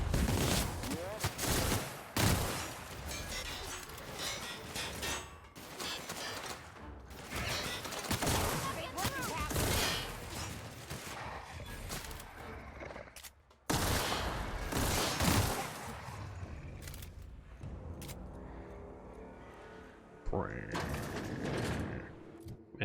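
Gunfire in the sci-fi shooter The Outer Worlds, with a dense run of shots and mechanical clatter over busy game action, broken by brief pauses, while a voice talks over parts of it.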